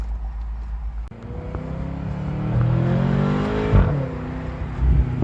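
A stock 2018 BMW M6 with a twin-turbo 4-liter V8 rumbles through its exhaust, a deep idle that swells into a rev with rising tone around the middle before settling back and blipping again.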